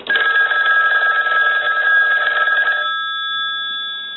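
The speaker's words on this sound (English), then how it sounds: "So we'll go ahead and ring the phone." A red Western Electric 2500 desk telephone, freshly repaired, rings its bell loudly and continuously for nearly three seconds before the ring cuts off and a faint metallic decay lingers.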